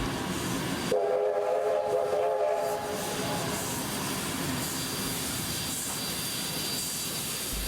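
A NSW steam train passes close by with a loud sustained whistle blast near the start, followed by steady rumble and clatter of the locomotive and carriages rolling along the line.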